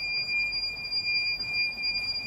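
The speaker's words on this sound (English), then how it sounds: "Just now our BMS sent an alarm that the charging is over current." A battery management system's over-current charging alarm on a high-voltage battery setup, a steady high-pitched electronic tone holding constant over a low background hum, with no speech.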